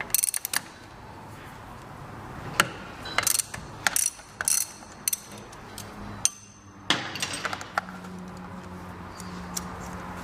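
A ratchet tightening a nut on a Vespa LX150 scooter, with several short bursts of close, sharp clicking separated by pauses and occasional metallic taps.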